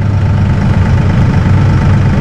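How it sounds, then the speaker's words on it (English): Massey Ferguson 1M/2M eHydrostat tractor engine running at a steady low idle, a close, continuous diesel rumble with no speech. "We'll start the tractor up."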